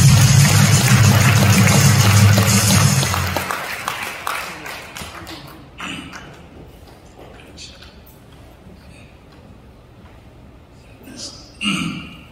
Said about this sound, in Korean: 자, 박수 보내주세요.